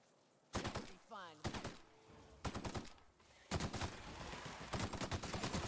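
Rapid bursts of gunfire from the video game The Outer Worlds: Spacer's Choice Edition ring out in several loud clusters, with short pauses between volleys.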